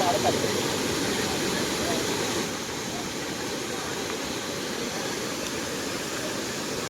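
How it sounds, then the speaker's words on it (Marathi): Heavy rain pours down at a riverside or stream spot in Ratnagiri where the water is rising, making a dense, continuous roaring hiss that stays loud and even throughout. "पाऊस पडतोय आणि पाणी आहे ना वाढत चाललंय"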